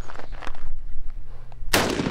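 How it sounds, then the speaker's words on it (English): A single sharp rifle gunshot fired with a Rise Armament Rave 140 trigger, loud and close, cracking out near the end after a short quiet lead-in. "first shots. Rise Armament Rave 140 trigger"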